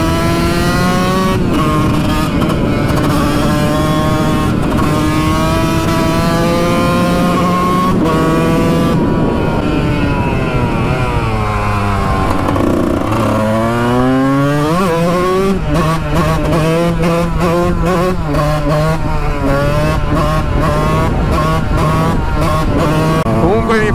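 Kawasaki KX 125 two-stroke motard motorcycle ridden, the engine revving loud and continuous throughout, pitch rising and falling with throttle and gear changes, sharp crackling bursts toward the end.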